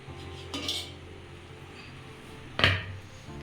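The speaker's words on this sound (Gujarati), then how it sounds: "હવે આપણે ગેસ ઓફ કરી દઈશું અને પ્લેટને બહાર કાઢીશું." Metal dhokla plate lifted out of a steamer, two distinct clanks of metal on metal, a softer clink early and a sharper, louder clatter near the end against a faint kitchen background.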